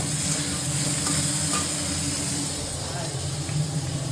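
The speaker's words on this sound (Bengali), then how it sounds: "বেগুনটা আমি আগে একটু ভেজে নিচ্ছি যাতে বেশি না গলে যায়" Eggplant frying in a pan gives a steady, dense sizzle and hiss throughout, fairly close and even, with faint background voices.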